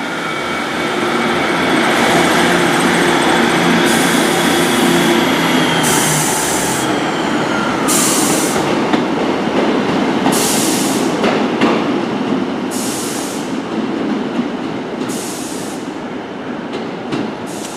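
A Great Western Railway diesel train bound for Barnstaple departs, its loud, continuous engine roar and wheel noise filling the air with repeated rhythmic rail clatter as it passes close by.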